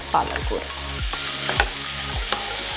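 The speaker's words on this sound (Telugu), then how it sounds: "జస్ట్ పచ్చివాసన పోగానే పాలకూర వేసేద్దాం" Spinach sizzles steadily in a hot pan over medium flame with onion, while a spatula scrapes and stirs it in a regular rhythm of soft strokes beneath the frying hiss.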